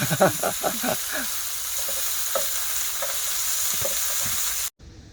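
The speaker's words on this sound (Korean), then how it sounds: "삼겹살 굽고 계십니다." Pork belly sizzling and frying on a grill outdoors beside a fishing spot, a loud, constant hiss close by, with a voice speaking early on and a few clatters of utensils before it cuts off abruptly.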